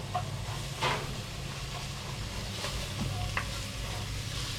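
Onions sizzle steadily in a cast iron Dutch oven on a Camp Chef camp stove, with a few soft stirring scrapes over a constant low frying hiss.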